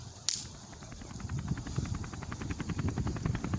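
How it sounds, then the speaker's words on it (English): Helicopters flying overhead give a steady, rhythmic rotor chop at moderate distance that carries through the whole stretch, starting just after a brief sharp click. "it sounds like helicopters, bro."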